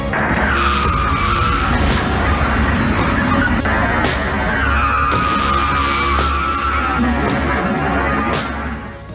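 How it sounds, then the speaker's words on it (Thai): A pickup truck brakes hard and swerves around a parcel box fallen in the road before striking a street lamp pole. A loud, sustained tire-and-brake squeal wavers in pitch over steady road rumble for about nine seconds. "เสียงเบรกรถกระบะดังสนั่น แต่ว่าสุดท้ายไปหยุดที่เสาไฟฟ้าส่องสว ่างกลางถนน"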